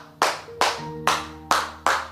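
A preacher claps his hands five times in a slow, even rhythm, each clap sharp, close and loud, with a faint hum underneath.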